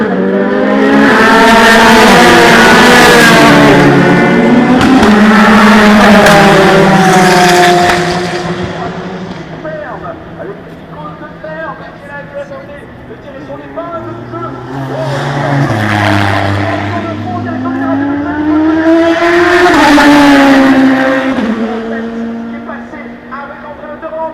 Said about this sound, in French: pleine puissance à la sortie de ce virage, avec donc Thibaut Bernard.